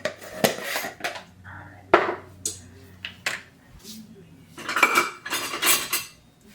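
A utensil clinks and scrapes against a bowl in irregular knocks while pumpkin spice batter is mixed, close and fairly quiet, with a few louder taps near the end.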